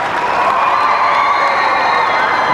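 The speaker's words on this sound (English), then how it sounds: "that's a modest amount of applause from this crowd in St. Petersburg" A figure skating crowd in a St. Petersburg arena gives modest applause and cheering during a pairs long program, a steady distant wash of clapping and faint whoops.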